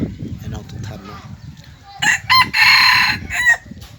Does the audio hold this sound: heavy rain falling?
no